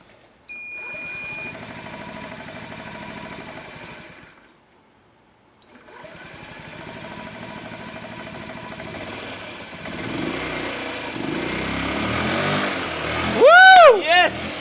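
A small Japanese engine with a dirty carburettor cranks and runs with a steady buzzing drone, briefly cuts out, then restarts and settles into an idle while people talk and cheer over it.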